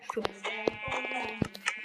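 Sheep bleating in the video game Minecraft, a few short wavering bleats close by with other brief game sounds mixed in over a short stretch.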